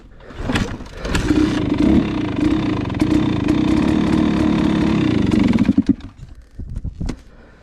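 A 2023 GasGas MC250 dirt bike engine fires up on a cold start and runs loud and close for several seconds with a raspy, buzzing drone before cutting out abruptly, leaving brief clatters.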